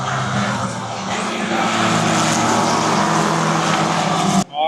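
Formula One cars roar past at the British Grand Prix, a loud sustained high-pitched engine wail swelling toward the end, then cutting off abruptly.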